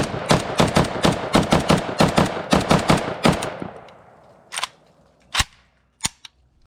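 A rapid string of close, loud 5.56 rifle shots from an Arsenal SAM5 AK-pattern rifle with an enhanced trigger at an outdoor range, fired in quick bursts. A few slower, spaced single shots follow as the echoes fade.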